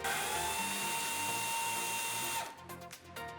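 A power tool whines steadily at high pitch while removing rear brake bracket bolts from the axle on a 2009-2018 Ford F150, then cuts off into a few short revving bursts.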